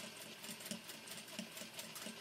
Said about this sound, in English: with my right hand I am just going to gently hold the fabric together and then to stitch